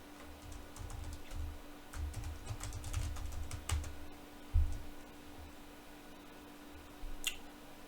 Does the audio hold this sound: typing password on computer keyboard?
yes